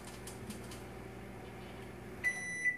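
A microwave oven runs with a steady low hum, heating Pyrex glassware in a home crystal power experiment, then a few sharp electronic beeps sound near the end.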